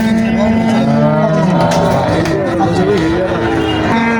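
Cattle moo loudly and close at the Moinamoti cow market, where Sahiwal cattle are sold, with long drawn-out calls over a background of crowd murmur and voices.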